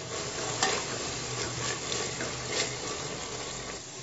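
Ground coriander-cumin powder and garam masala being stirred in a hot pan while cooking rajma, a steady soft scraping and sizzle running throughout at moderate level with no voices.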